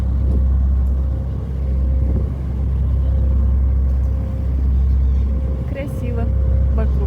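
A steady low engine rumble fills the deck of a ferry crossing to the other side carrying a bus, constant and loud with slow swells, while someone talks over it.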